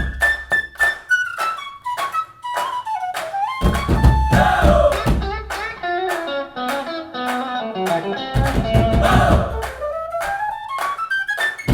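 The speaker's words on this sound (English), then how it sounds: "the chorus shouts and the stomps, it somewhere came to sound like this" Produced Bollywood song mix combining trumpet-like melodic lines with chorus shouts and heavy stomps, rhythmic percussive hits driving under layered brassy phrases, loud and full throughout.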